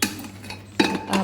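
A pressure cooker that has cooled after cooking chana dal filling for puran poli is opened, its metal lid clanking and clinking in a few sharp knocks close by.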